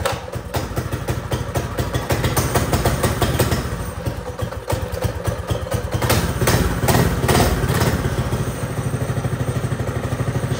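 Predator 212 small engine running steadily after its stock carburetor was rejetted, a loud, close, continuous idle with rapid clattering firing pulses and no voices.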